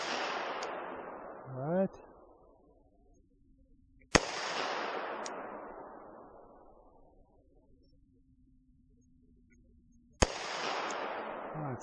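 Three loud, sharp Glock 40 MOS 10mm pistol shots fired at a 75-yard target, spaced several seconds apart, each ringing out in a long fading echo, with a brief spoken word between.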